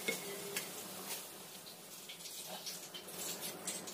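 Cut vegetables frying in hot oil for a home-style sayur dish, a steady, fairly quiet crackling sizzle with faint bubbling running throughout, no voices.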